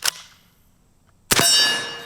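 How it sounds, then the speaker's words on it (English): A .50 caliber Megalodon pump-action air gun gives two sharp metallic clacks as the pump is racked, the first one brief and the second followed by a ringing tail. "Rack the pump, chamber another round."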